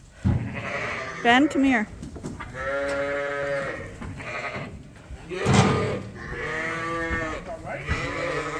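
Dorset sheep and lambs bleating in a winter farm pen, several overlapping wavering calls near and loud, one after another, while a person briefly speaks among them.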